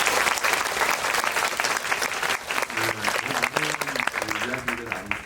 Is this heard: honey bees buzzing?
no